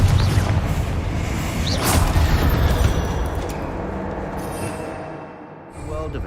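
A Confringo fire spell in Hogwarts Legacy erupts as a booming blast, with a sharp burst near the start and a rumbling tail that fades over several seconds.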